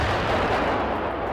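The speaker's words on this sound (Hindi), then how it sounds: "रूस ने जो वीडियो जारी किया उसमें दिखाई दिया कि उसकी सेना ने 2S7 माल्का तोप से ताबड़तोड़ गोले बरसाए।" A Russian 2S7 Malka self-propelled artillery gun firing shells, heard as a loud, dense, continuous roar of blasts, with no voices over it.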